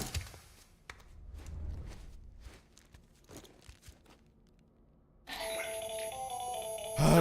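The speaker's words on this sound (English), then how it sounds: "Oh, a phone call." An in-game phone starts ringing in Death Stranding, a bright, loud electronic tone that cuts in abruptly after a stretch of quiet footsteps and scattered soft knocks.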